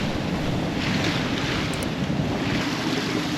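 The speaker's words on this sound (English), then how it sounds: "the waves are still massive, and the wind is dropped down now to 20." Massive ocean waves and strong wind of about 20 knots buffet a sailboat at sea, a steady loud roar of surf and wind noise on the microphone throughout, with no talking.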